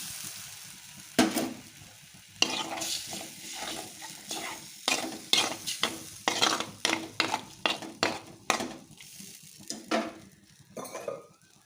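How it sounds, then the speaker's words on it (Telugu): Gram flour mixture added to Bombay chutney frying in a pan, with a ladle scraping and clinking against the metal in quick, repeated strokes over a steady background sizzle. "ఇప్పుడు శనగపిండిని పక్కన కలిపెట్టుకున్నాం కదండి యాడ్ చేసుకుంటున్నాను"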